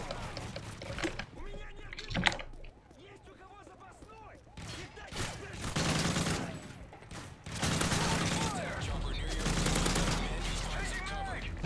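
Gunfire in the Call of Duty: Modern Warfare 3 video game, with repeated bursts of automatic fire and loud shots amid game noise and people talking over it.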